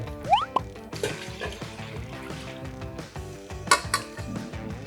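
Water poured into a pot for long boiling while making Thai braised eggs, with splashing and filling sounds, a few sharp metallic clinks of the pot and utensils, and no speech.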